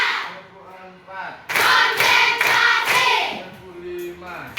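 A group in a coding class claps together on a call: a voice speaks first, then a loud burst of rhythmic clapping runs for a few seconds, with a few distinct beats, before fading.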